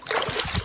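A big hooked male fish splashing in river water while being unhooked, a short burst of splatter and sloshing heard close by.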